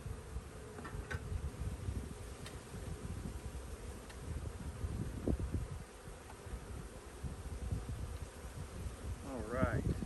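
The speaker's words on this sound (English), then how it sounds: "we got a pretty good stock of bees here" Honey bees in an open hive drone steadily and closely throughout, a dense continuous buzz with a few brief louder passes, while a person talks now and then over it.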